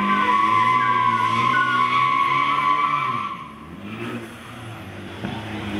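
A BMW does a burnout at a Curitiba car meet, tires squealing loudly with a sustained screech and engine roar that dips and recovers partway through, close by and with no talk.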